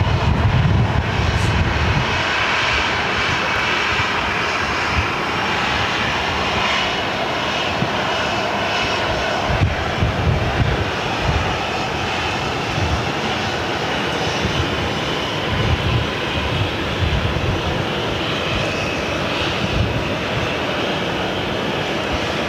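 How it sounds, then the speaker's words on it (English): An American Airlines jet airliner arriving at gate D1 at Phoenix airport fills the scene with a loud, continuous engine roar that stays steady throughout. "I've got this flight coming into gate D1, which is right below us here."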